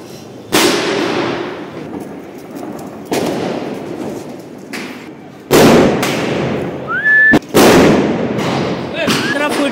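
Gola bomb firecrackers bursting on a road between houses during Diwali, several loud sharp blasts spaced a second or two apart with crackling tails, a voice briefly audible between them.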